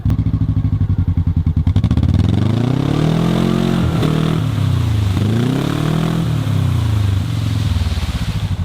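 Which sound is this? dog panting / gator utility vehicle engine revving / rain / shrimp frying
gator utility vehicle engine revving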